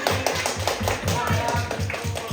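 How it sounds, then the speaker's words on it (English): A church congregation claps in a steady, rhythmic beat, many hands together, with voices carrying over the clapping throughout. "Let's clap for the Lord"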